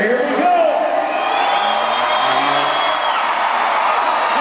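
A large arena crowd at a monster truck show cheers and whoops continuously, loud and close, with shouting voices mixed in and an announcer's voice over the roar.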